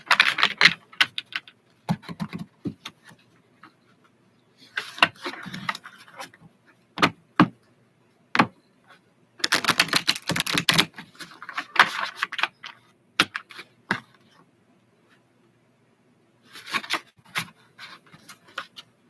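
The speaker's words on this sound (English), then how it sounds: "Let's shuffle." A tarot deck, the Sacred Circle Tarot, is shuffled in bursts of quick crisp riffling and card slaps, separated by short pauses, close by and with no talk.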